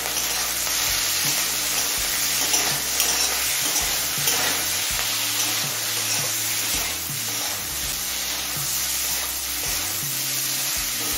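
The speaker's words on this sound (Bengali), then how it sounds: "নুন হলুদ দিয়ে আরো 3-4 মিনিট ভেজে নিলাম" Eggplant, beans and green chili fry in a pan with salt and turmeric, giving a steady, loud sizzle throughout with intermittent scraping from stirring, and no voices.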